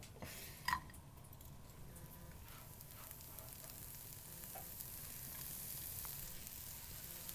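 Steak sizzles steadily in a hot pan, a soft continuous hiss of frying with a brief metallic clink near the start, heard faintly without any talking.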